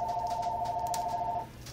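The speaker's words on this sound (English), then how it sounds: "Just as soon as I crack an egg, the phone rings." A telephone rings in a home kitchen while an omelette is being made, one steady two-tone electronic ring that stops abruptly, fairly loud and close, with no talk over it.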